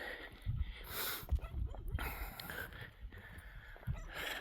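A dog outdoors on a country walk gives a few soft yips and whimpering sounds, faint and somewhat distant, mixed with rustling and footstep-like noises.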